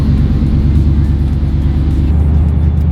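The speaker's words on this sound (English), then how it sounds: "This car hasn't run in a while. Starts right up." An old car that had sat unused for a while, its engine running in a steady, close, low rumble that shifts slightly partway through.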